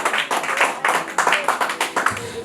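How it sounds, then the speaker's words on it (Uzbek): Brisk rhythmic clapping from an audience at an academy opening ceremony during a certificate presentation, loud and close, in quick repeated bursts. "Qarsaklar bilan kuzatib qo'yamiz."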